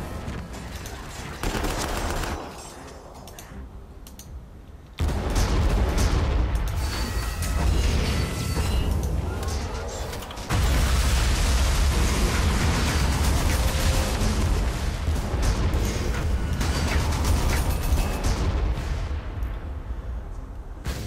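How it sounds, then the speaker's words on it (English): Loud, sustained barrage of booming explosions and rapid gunfire in the video game Armageddon: Da Orks, continuous and dense, with two sharp surges in intensity. "Large explosions."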